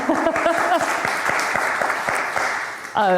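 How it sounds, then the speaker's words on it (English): A small audience claps at a talk on creation care, with sharp individual claps ringing out in an uneven rhythm under ongoing speech, before a voice comes in clearly at the end. "yes, yeah, we can, it's good to clap."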